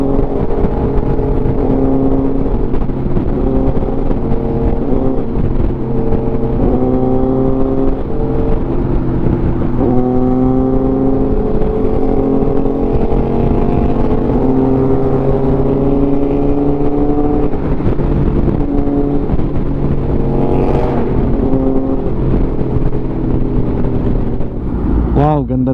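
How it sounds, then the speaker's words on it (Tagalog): A BMW M4 Competition sports car's engine hums loudly and steadily, with the pitch sliding up and down as it revs. A brief whoosh sounds near the end. "BMW M4 competition"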